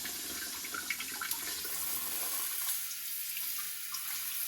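A stainless steel bidet attachment sprays water on its feminine wash setting, a steady close hiss of running water that thins out partway through, with no talking.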